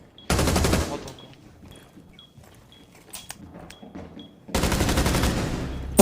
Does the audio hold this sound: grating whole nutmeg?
no